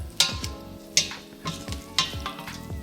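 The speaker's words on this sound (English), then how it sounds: "Now we just need to finish cooking this bacon" Bacon cooking in a pan, an even sizzle with a few scraping or stirring knocks at roughly one-second intervals, close and fairly loud; no speech.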